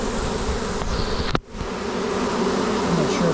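Honey bees buzz steadily inside a hive during a package installation, a close, continuous drone broken briefly by a sharp knock or handling noise midway.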